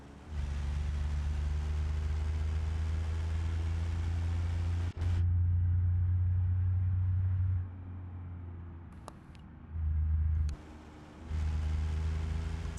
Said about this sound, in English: It's a very rumbly 3-cylinder.